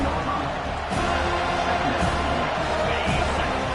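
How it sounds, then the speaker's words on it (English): A football stadium crowd roars and cheers continuously as a play unfolds, forming a dense, steady wall of noise with no clear breaks, and a broadcast voice is faintly present beneath it. "This crowd knows when to bring it."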